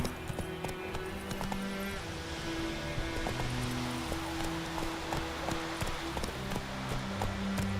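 Hooves gallop in a steady, rapid rhythm from a horse in The Witcher 3 video game, running continuously under game music and ambience.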